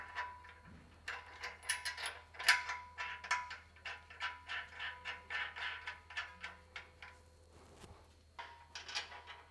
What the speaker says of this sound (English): put our last 1/2-inch bolt through and tighten it up